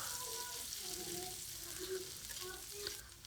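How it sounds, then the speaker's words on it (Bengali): Chopped onion frying in oil in a pan for biryani, a steady soft sizzle with faint crackles running throughout, fairly quiet and close. "এবারে আমি পেঁয়াজটাকে গোল্ডেন কালার করে ভেজে নেব।"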